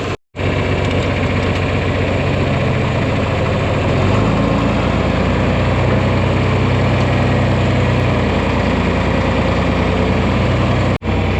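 A John Deere 4020 High Crop tractor engine runs steadily at close range, a loud, continuous low diesel drone with a slight shift in pitch partway through, no talking.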